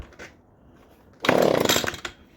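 A gas leaf blower, cold and on choke, being pull-started for the first time in the year: a faint tug, then a short burst of loud rough engine sputter lasting under a second before dying off.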